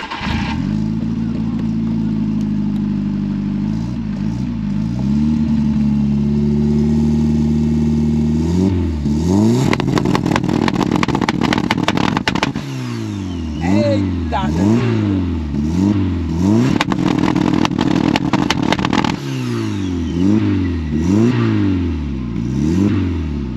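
A 1988 Volkswagen Voyage CL with a turbo revs hard through its exhaust, repeated rising and falling surges with a loud near drone and clattering bursts, while someone talks over it.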